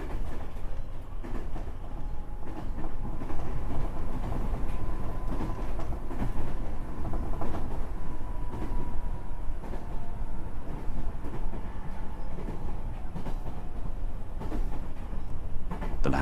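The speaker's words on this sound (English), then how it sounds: "You remain awake, listening to the rhythm of the rails." A train rumbling along the rails, a continuous low roar with faint rhythmic clacking and occasional squeal, steady and fairly loud throughout.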